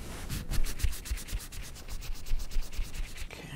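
A motorcycle brake caliper pin is rubbed clean with rapid rhythmic back-and-forth scrubbing strokes, close and fairly loud, repeating steadily before easing off.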